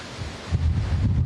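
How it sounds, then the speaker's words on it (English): Strong wind gusts during a Southern California wildfire roar as a rumbling, buffeting rush across the microphone, building louder partway through, with no speech. "we are just under attack with the wind here"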